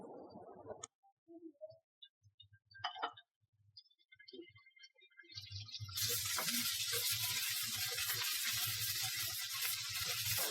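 Egg and chicken frying in oil for pasta, a loud broad steady sizzle that swells up suddenly and holds, preceded by scattered clicks, taps and light kitchen clatter; no talk.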